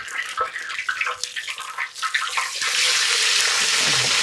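Mustard seeds go into hot oil for a pickle: irregular crackling pops at first, then a loud, steady sizzling hiss that fills the rest of the moment, with no voices.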